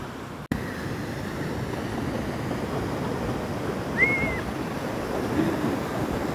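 Sea waves wash against the coast at Corinto, Chinandega, Nicaragua, heard as a steady, broad surf roar with wind across the microphone, a brief thump near the start and a faint high tone in the middle.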